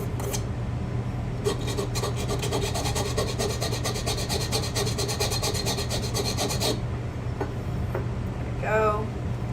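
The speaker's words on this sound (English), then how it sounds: "I'm just filing copper." A metal file rasps across a copper workpiece in quick, steady back-and-forth strokes for about five seconds over a low workshop hum, then stops; a brief voice follows near the end.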